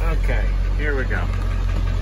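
A 2000 Ford F-550 truck engine idles with a steady low rumble close by, while a person talks over it.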